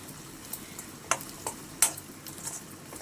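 Masala frying in a pan for shrimp fried rice, a quiet steady sizzle broken by a few sharp scrapes of a spoon stirring it, close by with no talk.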